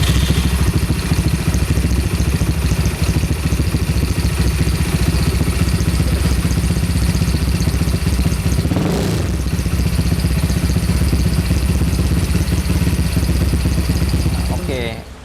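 A 2010 Yamaha Mio Smile scooter engine with a modified 12.8 compression piston idles loud and close, a rough steady clattering rumble that holds constant and fades at the very end.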